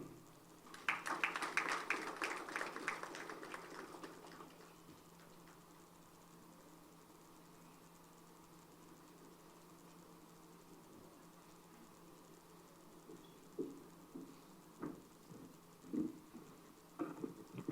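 Applause from a conference audience honoring a speaker at an educational event: a faint, steady patter of many hands for about four seconds that quickly dies away into quiet room tone.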